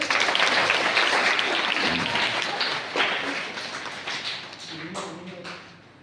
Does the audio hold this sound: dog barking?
no